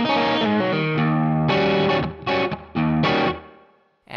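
Distorted electric guitar plays a classic 12-bar blues intro to a song, with sustained chords and riffs in bursts of rhythmic phrases that ring out, then a short pause and a final stab.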